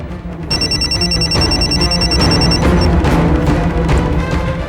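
A telephone rings in a domestic room, with a bright, insistent repeating ring that carries loudly through the whole stretch, then breaks off near the end, with no speech over it.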